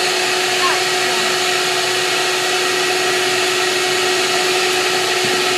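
A vacuum cleaner runs steadily while a car's interior is cleaned, a loud, even motor drone with a constant whine that holds unchanged from start to finish.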